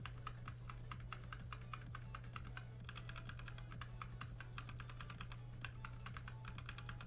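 Typing on a budget computer keyboard makes a steady run of quick, light key clicks close to the microphone, with a faint low hum beneath and no one speaking.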